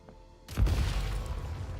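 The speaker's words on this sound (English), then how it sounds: "Shoot the explosives to detonate them and clear the path." Explosives blow up in a fantasy video game. A single deep, sudden boom bursts out after a quiet moment, then rumbles and trails off.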